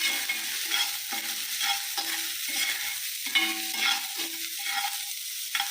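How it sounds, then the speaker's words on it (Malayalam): Chopped onion, crushed garlic and slit green chillies sautéing in hot oil for papaya mezhukkupuratty, a continuous close sizzle with rhythmic scraping strokes of a spoon stirring the pan, no voices. "ഇതെല്ലാം ഇട്ടിട്ട് ഒന്ന് വഴറ്റുക കേട്ടോ"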